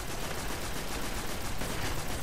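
Continuous rapid shotgun and gunfire blasts from the video game Destiny fill the moment with dense, loud, unbroken noise and no pauses between shots.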